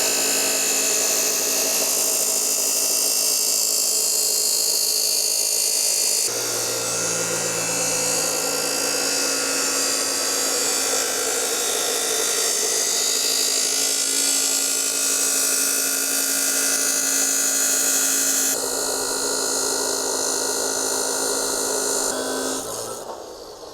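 A battery-powered cutting tool, run on WEIZE batteries, grinds through steel for an off-grid welding job, a loud continuous whine that shifts pitch as the load changes over more than twenty seconds.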